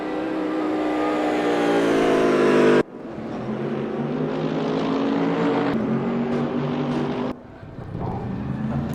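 GT3 race cars, including a Mercedes AMG, heading out on the Nürburgring in the RaceRoom game, engines roaring and droning with abrupt cuts between shots, loud and continuous.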